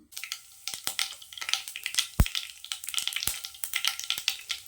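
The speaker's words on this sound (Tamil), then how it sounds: "கடாயை வச்சாச்சு. எண்ணெய் சேர்த்துக்கலாம். கடுகு உளுத்தம் பருப்பு சேர்த்துக்கலாம்." Mustard seeds and urad dal crackle in hot oil in a kadai for bitter gourd kuzhambu. There are sharp irregular pops and spatters, one loud crack stands out, and a busy sizzle runs underneath.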